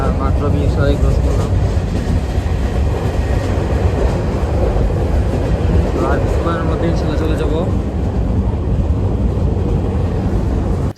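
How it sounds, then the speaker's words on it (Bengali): A delayed train from Dhaka pulls into Sitakunda station in a loud, steady rumble with rolling wheel clatter and low mechanical drone, heard from on board, with voices murmuring underneath. "অবশেষে ট্রেনটি সীতাকুণ্ড স্টেশনে চলে আসলো।"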